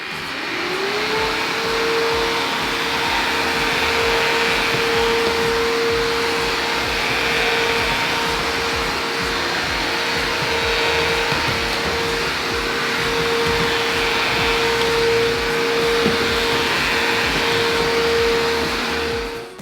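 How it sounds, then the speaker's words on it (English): Bissell Crosswave wet-dry floor cleaner running steadily and loudly up close, a constant motor whine with a sustained tone and a broad whooshing suction roar through the whole stretch, starting up in the first moment and cutting off at the end. "So that is the sound of the Crosswave in use"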